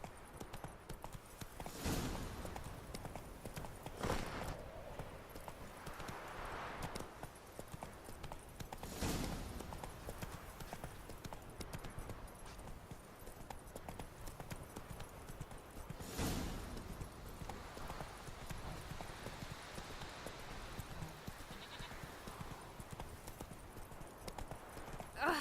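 Hooves of Roach the horse in The Witcher 2 game, a soft clip-clop running through the scene with occasional louder thuds, faint under ambient game sound.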